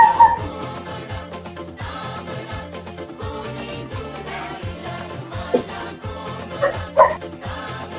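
A dog barks and yips in short bursts near a crab fishing spot, fairly close, with a whimper-like sound and outdoor background between the barks.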